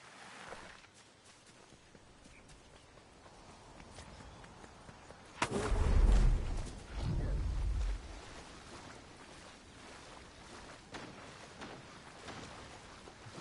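A short burst of gunfire in the Fortnite video game rises over a quiet background, with two loud, booming blasts close together before the sound falls back to a low hum.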